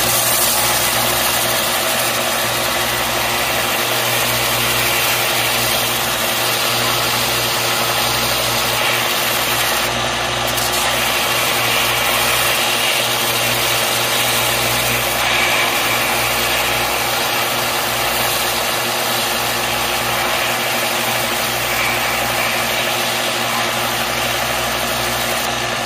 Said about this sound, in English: I'm going to go ahead and turn on the belt sander. And I'm just going to grind off the material